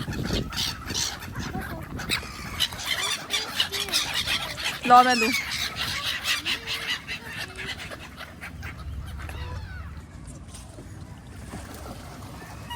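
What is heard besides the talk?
geese and fowl honking and clucking in a park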